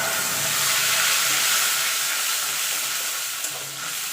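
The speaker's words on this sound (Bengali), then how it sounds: "দিয়ে ভালো করে এটাকে একটু কষিয়ে নেব যতক্ষণ টমেটো আর আদার কাঁচা গন্ধটা চলে না যাচ্ছে" Ground tomato and ginger paste fries in a pan with a steady, close, broadband sizzle and hiss, with stirring scrapes running throughout the few seconds and no speech over it.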